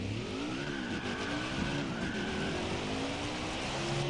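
A NASCAR race car engine in NASCAR Heat 5 on the front stretch of Auto Club Speedway, a steady loud engine drone with wavering revs during a burnout, continuous and close.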